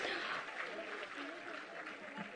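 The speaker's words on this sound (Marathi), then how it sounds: "जरा जोरदार टाळ्या होऊन जाऊ देत मंडळी." Applause from the audience at a Women's Day award ceremony honouring women, a dense, even patter of many hands clapping at moderate loudness, with some voices mixed in the crowd.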